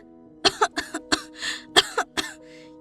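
A woman coughs in a rapid series of about eight sharp, dry bursts, close by, with a brief raspy breath in the middle and quiet between.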